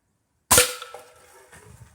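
A Gamo Whisper Fusion Mach 1 .22 air rifle fires a hollow point at a board: a single sharp, loud crack from silence, trailing into a brief fading ring.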